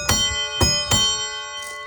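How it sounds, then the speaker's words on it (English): A small plunger bell mounted on a little Austin car rings out three times, sharp metallic strikes with long shimmering overtones that linger between each ding, close and clear. "All right, awesome. Bell installed,"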